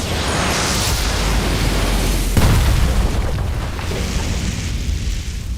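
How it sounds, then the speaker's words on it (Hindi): An anime sword skill, Divine Slash, lands as a broad roaring blast with a heavy booming impact midway, then fades into a long rumbling wash of noise. "ये स्वॉर्डमैन ब्रांच की स्किल थी, डिवाइन स्लैश"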